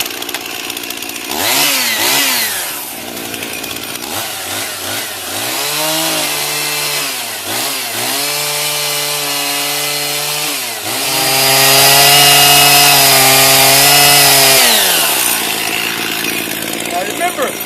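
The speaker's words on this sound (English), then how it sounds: "Let's grab that chainsaw and get to work." A loud chainsaw revs and bogs as it cuts through fire-damaged wood for furniture carving, its engine pitch rising and dropping over several long passes.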